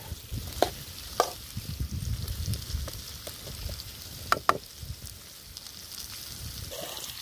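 Raw mango pieces sizzling in a pan for a Gujarati mango shak, a steady low fry under a few sharp spoon clacks and scrapes against the pan, fairly close and without talk.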